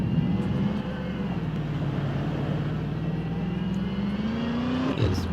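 Max Interceptor car driven in Garry's Mod with the Simfphys vehicle addon: a steady simulated engine drone that holds a fairly even pitch, dips slightly, then climbs gradually before a brief shift near the end, loud and continuous throughout.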